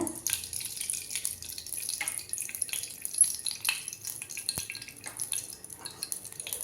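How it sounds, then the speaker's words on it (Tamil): Ghee poured into a pan for frying cashews while making ven pongal, giving a soft trickling pour with light sizzle, interrupted by scattered clinks of utensils against the pan. "இப்போ கொஞ்சம் வந்து நம்ம நெய் ஊற்றிக்கலாம் முந்திரி வறுக்கிறதுக்கு"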